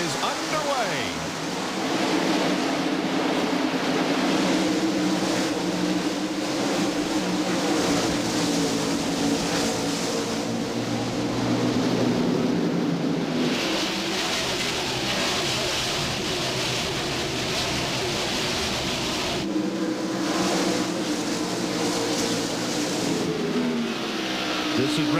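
A pack of NASCAR stock cars roars away at the green-flag start of the 1998 Food City 500, a dense, continuous engine drone that stays loud and steady throughout, with a broadcast voice audible in the mix.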